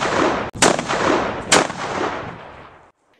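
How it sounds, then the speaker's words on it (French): Two booming cannon shots ring out some distance away, each a sharp report followed by a long rolling rumble that fades to quiet. No one speaks. "3 coups de canon répondent."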